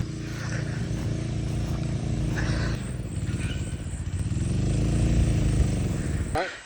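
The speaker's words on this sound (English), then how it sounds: "our neighbour Pat has come to help us because he's got a firefighting pump" A firefighting pump engine on an Australian hobby farm runs with a steady, close mechanical drone, its pitch swelling and easing slightly midway before cutting off near the end.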